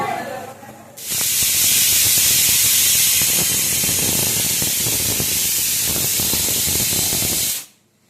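A pressure cooker making bhapa biryani lets out one long, loud whistle of escaping steam. The hiss starts abruptly, holds steady for about six and a half seconds and then cuts off.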